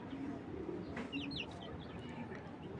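Racing pigeons kept in cages give soft, low cooing calls, faint and a little distant under a noisy background, with a few brief higher chirps.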